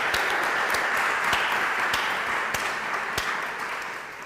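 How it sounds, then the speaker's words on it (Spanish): Soft, steady applause from an audience at a community planning meeting and debate with Saskia Sassen, a dense wash of clapping with a few sharper claps standing out, heard at a moderate distance. "Pueden aplaudir."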